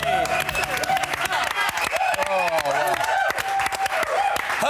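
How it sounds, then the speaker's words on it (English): A crowd applauding, dense clapping throughout, with voices and cheering mixed in over the top. "Round of applause for Dickie."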